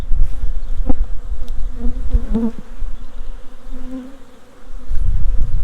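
Honey bees buzzing around an open hive in an apiary, a steady close drone with a few louder passes of individual bees near the start and middle, heavier rumble at both ends.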